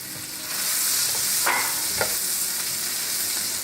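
Egg and red shrimp frying over high gas in a pan, a steady loud sizzle with a couple of sharp stirring scrapes in the middle, no talk.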